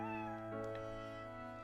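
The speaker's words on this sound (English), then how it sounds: "Gotta love that one stock cat sound effect." A stock cat meow from the Professor Layton vs. Ace Attorney game, a couple of short mewing calls sitting over a steady bed of game music, fairly faint overall.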